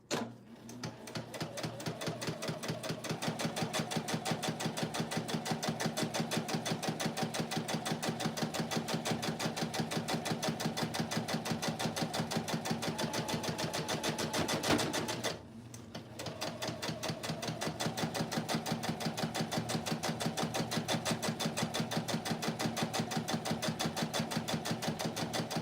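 An unoiled long arm quilting sewing machine runs steadily with a fast, rattling mechanical chatter, pausing briefly midway before resuming at the same even pace, close and alone.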